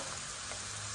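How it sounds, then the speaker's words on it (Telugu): Onions frying in a pan for a green beans and tomato curry, a steady, even sizzle holding level through the whole moment with no voices over it. "బాగా ఉల్లిపాయలు ఎర్రగా వేగాక"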